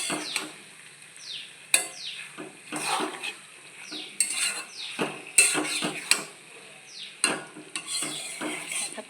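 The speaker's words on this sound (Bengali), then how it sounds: "সেজন্য কড়াইয়ের আওয়াজটা পাওয়া যাচ্ছে" A metal kadai clanks and scrapes under a stirring spoon while paneer posto cooks, sharp irregular knocks and rattles over a faint sizzle, close and lively, with no speech.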